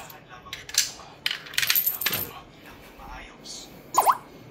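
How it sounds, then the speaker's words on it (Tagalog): A one-peso coin drops into a coin-operated wifi hotspot vending machine, giving a few close metallic clinks and rattles with a final bright ping. "Hulog tayo ng piso, ha."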